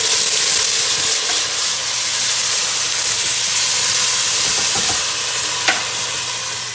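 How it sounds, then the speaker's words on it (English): Tomatoes sizzle in a hot pan just taken off the heat, a loud steady frying hiss with steam and occasional small pops, close and without voices. "Take it off the heat, and then put in your tomatoes."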